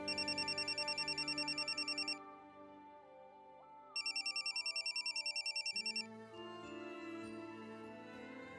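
A phone rings with a bright repeating electronic tone in two bursts, then music takes over as the call connects, no voices present.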